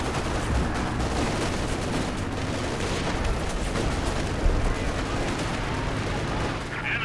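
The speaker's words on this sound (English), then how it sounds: "we've got zeroing artillery coming in" Artillery barrage in the video game Company of Heroes 2, a dense, continuous rumble of overlapping gunfire and shell blasts that stays loud throughout, with no clear pauses between impacts.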